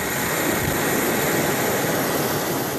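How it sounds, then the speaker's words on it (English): A military helicopter flying into Palma in Mozambique's remote Cabo Delgado province, heard from inside as a loud, steady, dense engine and rotor roar with no break and no voices. "We're flown in by military helicopter, the only way into Palma right now"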